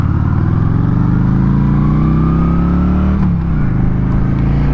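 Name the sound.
2025 Honda Shadow Phantom 750 motorcycle accelerating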